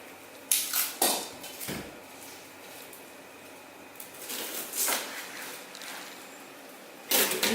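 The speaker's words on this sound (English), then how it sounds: "So we'll start with the onion. I'm going to cut it in half." A kitchen knife slices through an onion on a cutting board, giving a few sharp, close knocks and scrapes spaced across a quiet room tone, with another cluster of clacks at the end.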